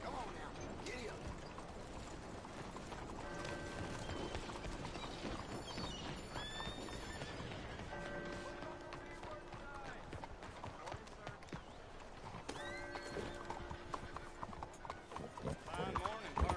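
Horse hooves clip-clopping at a steady run in the Red Dead video game, with occasional whinnies and talk layered over a busy background.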